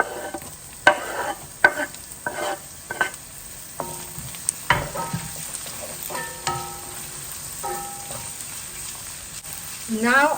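Garlic, onions and chili stir-fried over highest heat for fried rice, with a steady sizzle broken by sharp scraping and clattering stirring strokes, close and fairly loud, no voices.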